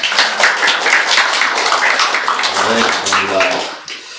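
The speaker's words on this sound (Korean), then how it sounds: "박수로 환영하겠습니다" Congregation applauding to welcome first-time visitors during a church service, a dense wash of clapping that carries on steadily under a speaking voice and fades near the end.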